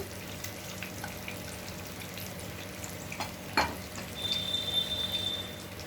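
Crushed garlic mixture dropped into hot oil for an egg garlic fry, a steady close sizzle and crackle with a sharp clatter midway and louder bubbling afterward.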